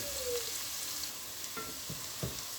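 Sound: onions and garlic sautéing in pot

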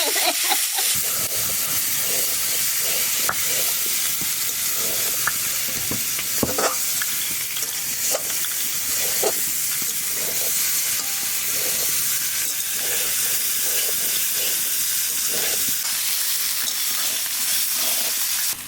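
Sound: frying green chili and ginger paste in a pan

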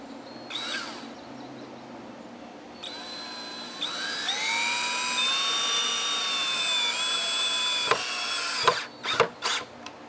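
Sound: driving screws into sawhorse

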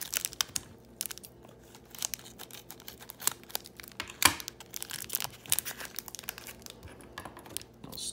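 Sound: peeling and tearing tape off a mail package

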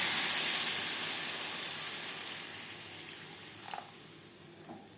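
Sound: water poured into pan of fried potatoes and spices

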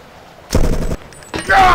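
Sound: gunfire in the video game Deus Ex

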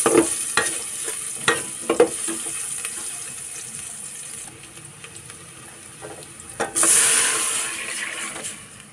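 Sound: sautéing onion, garlic and ginger in a pan

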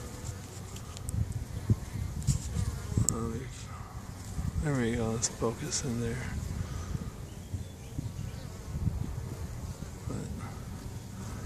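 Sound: Russian honey bees buzzing at open hive

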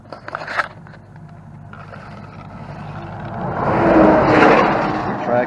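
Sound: Arrma Typhon RC car with 2400kv motor running

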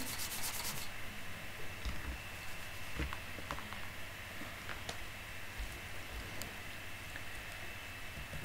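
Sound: breaking a chest in Minecraft video game

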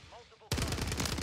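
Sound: sniper gunfire in the video game Call of Duty Warzone

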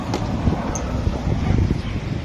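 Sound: sudden gust of wind

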